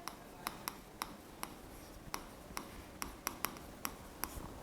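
A pen writes working notes in an accountancy class, faint, quick ticking strokes at irregular intervals against a quiet room hiss.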